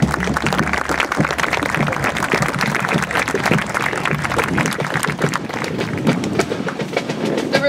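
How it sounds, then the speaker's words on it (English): Applause for an award-winning military academy marching band at an outdoor final parade, a dense steady crowd clapping that holds at an even level from start to finish. "Let's give our award-winning band a well-deserved round of applause."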